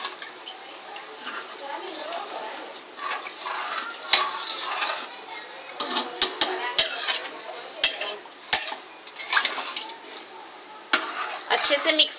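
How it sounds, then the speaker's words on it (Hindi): Mutton pulao rice and water being stirred in a pot, with scraping clinks of a spoon against metal that grow louder and sharper in the second half, over a steady background hiss. "अच्छे से मिक्स कर लेंगे।"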